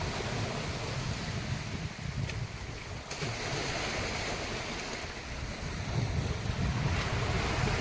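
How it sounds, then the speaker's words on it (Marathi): Small sea waves wash onto the shore at Uttan Chowk beach near Bhayandar, a steady surf roar blended with heavy wind rumble and no talk. "ये देखो कैसे वेव्स आते हैं छोटे छोटे"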